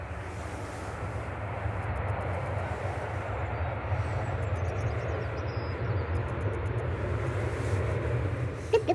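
EasyJet airliner from Jersey descending on approach to Manchester Airport, a steady low engine rumble slowly swelling, with faint ticking and chirping sounds in the background and no talk.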